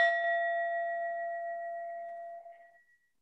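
A memorial bell rung once at a campus service honoring community members, its clear tone ringing out alone and decaying slowly over about three seconds.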